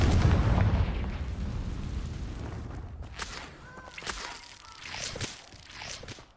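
Spell blasts from Incendio and Confringo in the Hogwarts Legacy video game, a run of booming impacts and crackling bursts, loud at first and then fading into scattered sharper hits and brief tonal effects.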